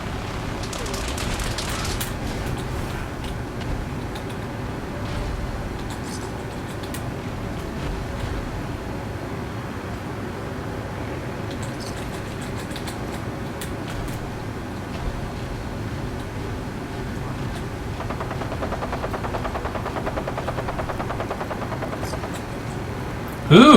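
In a modded Fallout 4 game, a Vertibird aircraft drones continuously while bursts of gunfire crackle, a dense steady roar throughout with brief sharper volleys.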